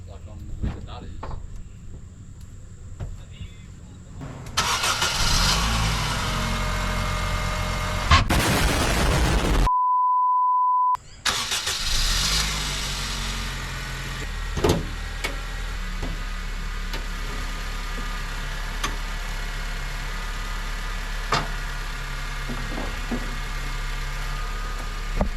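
A 2010 Honda Civic 1.8 litre R18A engine cranking and catching after some shuffling and clicks, then settling into a steady low idle at close range, with occasional knocks and handling noises around it.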